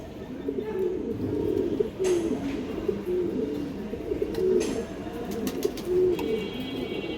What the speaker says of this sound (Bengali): জোড়া সবুজ গলা কবুতর দেখেন